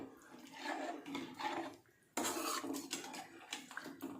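Spoon scraping and clinking against a pot while chicken curry is stirred, close metallic knocks in bursts with a brief pause midway before a louder clatter.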